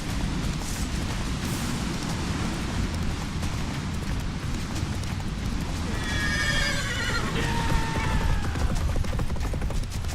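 In The Witcher 3, the horse Roach gallops with steady, close hoofbeats under a rumbling battle din, and a loud whinny cries out partway through.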